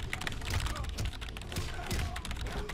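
Computer keyboard typing during a Mortal Kombat X fight, rapid irregular clacking and tapping keys in quick bursts, close up and fairly quiet, mixed with faint game sounds.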